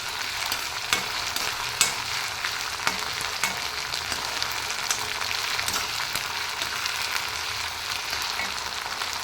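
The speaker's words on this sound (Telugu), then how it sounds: "లో ఫ్లేమ్లో పెట్టుకొని చేసుకోవాలి ఓపిక్గా." Spicy chicken fry cooking on a low flame, a dense steady sizzle with frequent stirring scrapes and clicks of a spatula against the pan, close and continuous without talk.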